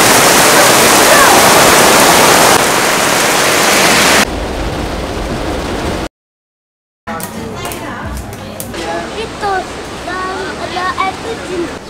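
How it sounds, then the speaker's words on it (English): A loud, broad rush of a waterfall in Bali, Indonesia roars steadily, then drops away into a brief silence and returns quieter with chirps and voices over it. "And now we're at a waterfall."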